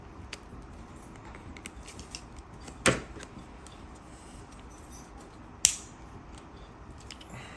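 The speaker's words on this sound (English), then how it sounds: "It's a great way to break your scissors, apparently." Scissors snip fishing line twice while tying baits for a plaster punching-bait mold: two sharp, close clicks a few seconds apart over a quiet, steady room background, with no talking.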